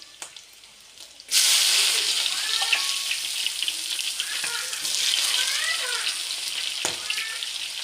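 Onions drop into hot oil for a chicken fry, setting off a sudden loud hiss that settles into steady, close sizzling frying, with faint voice fragments over it.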